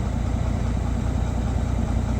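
A van engine runs steadily nearby with a low, even rumble while it pulls on a chain hooked to a tow cable, with no other sounds over it.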